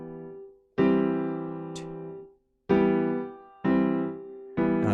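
A piano plays a short exercise for an Irish jig lesson, four separate struck chords ringing out and decaying in the quiet, the later ones coming quicker.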